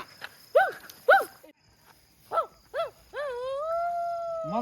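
A dog barks several times in short sharp yelps, then lets out a long sustained howl, close and loud in an otherwise quiet outdoor setting.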